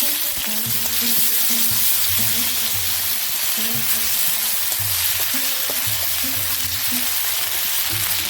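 Ginger and green chilli paste frying in a pan with radhuni and green chillies, a steady loud sizzle and hiss throughout with occasional stirring sounds, no voices.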